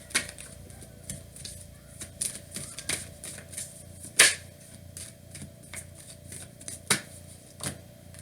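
Tarot cards being shuffled by hand, a soft run of papery riffles and taps with a few sharper snaps, close and fairly quiet.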